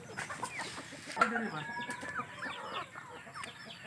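Native chickens cluck and chatter repeatedly at a moderate distance, several birds overlapping in an irregular, busy rhythm with no talking.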